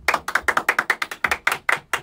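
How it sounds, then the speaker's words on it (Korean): A small group of people claps together in a classroom, giving a short round of quick, sharp, fairly even claps that stays close and lively with no talking. "다들 박수"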